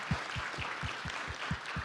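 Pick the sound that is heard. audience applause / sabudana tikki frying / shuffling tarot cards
audience applause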